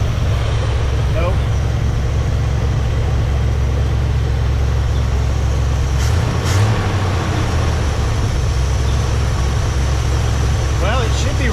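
A 1982 Dodge Ramcharger engine runs steadily at idle, a loud continuous low rumble filling the whole stretch with no break, briefly swelling near the middle.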